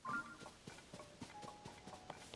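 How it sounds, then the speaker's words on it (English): Bony hooves of a skeleton horse in a video game clop in an uneven walking rhythm, about eight or nine faint knocks over a low background with no talk. "Is that a skeleton horse?"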